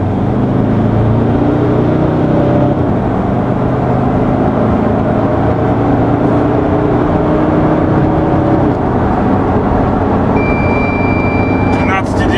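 A 170-horsepower Toyota Land Cruiser Prado works off-road, its engine holding a loud, continuous drone with some shifting pitch throughout.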